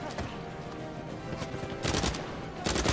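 Rapid bursts of video game gunfire from Uncharted 4, loud clustered volleys of shots near the middle and end over a busy battle soundscape, with no talk.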